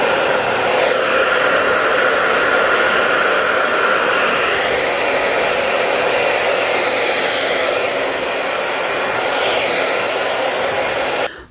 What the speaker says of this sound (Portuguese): E aí eu seco mais um pouco.